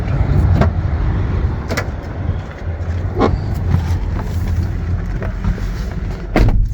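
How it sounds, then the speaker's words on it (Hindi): A Ford car engine starts and idles steadily outside a house, with a low continuous rumble broken by a few sharp clicks and knocks from doors or controls. "गाड़ी हमारी स्टार्ट खैर से हो गई है"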